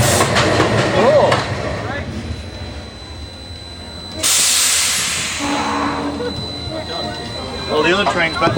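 The Quicksilver Express ride train at Bonfante Gardens rumbles and clatters past with a loud burst of hissing air, while people talk and exclaim nearby.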